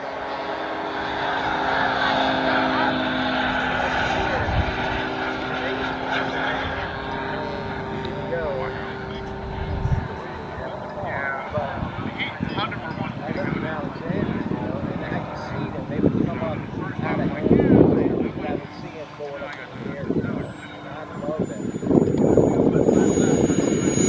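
An RC T-45 Goshawk scale model jet at a warbirds and classics flying event in Fredericksburg, its steady turbine-like roar carrying throughout as it flies and lands, with wind, handling noise and bursts of nearby chatter over it.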